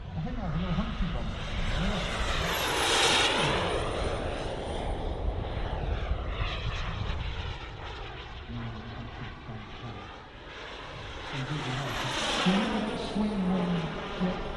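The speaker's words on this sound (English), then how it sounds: "Swing wing jet tornado with a glow engine at the front" A model swing-wing Tornado jet with a glow engine mounted at the front flies past at a model air show, its engine whine rising and falling as it passes, with talk over the top.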